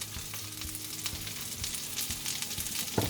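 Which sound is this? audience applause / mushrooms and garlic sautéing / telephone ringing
mushrooms and garlic sautéing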